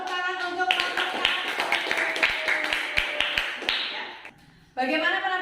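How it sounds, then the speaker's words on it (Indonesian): Children in a classroom clap together in a rhythmic burst of applause for a group, the claps crisp and even, after which an adult voice speaks. "Tepuk tangan untuk kelompok 1."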